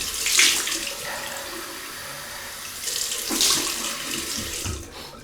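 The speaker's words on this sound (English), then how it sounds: "Cold water rinse." A bathroom sink tap runs cold water for a rinse while shaving, a close steady stream with splashing and hands moving through the water, swelling in two bursts.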